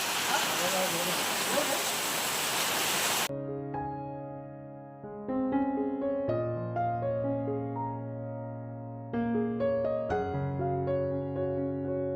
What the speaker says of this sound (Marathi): भरपूर पाऊस पडते पाऊस जोरदार